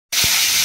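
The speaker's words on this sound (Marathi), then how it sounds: "तर इथे फोडणी द्यायला सुरुवात झालेली आहे. जिरं, मोहरी आणि कढीपत्ता." Cumin, mustard seeds and curry leaves hit hot oil with a sudden loud hiss that holds steady as a close, continuous sizzle.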